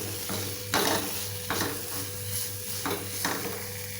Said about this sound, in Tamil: இப்போ நல்லா கலந்து விட்டாச்சு.